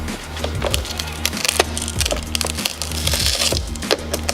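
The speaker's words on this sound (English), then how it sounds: "let's see what I can do with this chisel" Repeated scraping, cracking and prying noises from a metal chisel working against a Scion tC side mirror's glass, up close with irregular rhythm.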